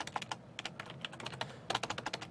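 Fingers type on a computer keyboard in quick irregular bursts of soft clicks at close range, with brief pauses between runs of keystrokes.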